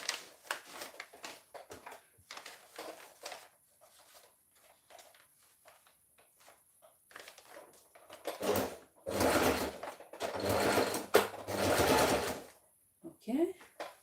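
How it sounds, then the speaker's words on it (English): A sewing machine stitches fabric in short stop-start runs, then longer steady bursts near the end, close by, with handling clicks and a voice talking over the quieter early part. "I'm going to take it to the machine and I stitch"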